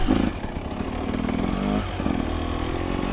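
A 2024 KTM 300 XCW two-stroke dirt bike engine idling and running close by, a loud, buzzy, steady drone with a slight rise in revs partway through.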